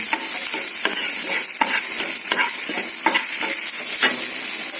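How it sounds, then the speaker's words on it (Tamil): Onions and green chillies sizzle steadily in a hot pan while a spoon stirs them in regular scraping strokes, close and continuous. "வெங்காயம் பச்சை மிளகாய் போட்டுடலாம் வெங்காயம் கொஞ்சம் வதக்கி விட்டுடலாம்"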